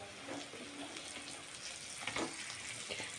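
Chopped onions hitting a hot pan for a goat liver stir-fry, a soft continuous sizzle and crackle at low volume with a brief burst of louder frying partway through.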